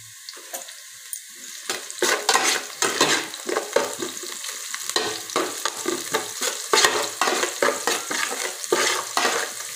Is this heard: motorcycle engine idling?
no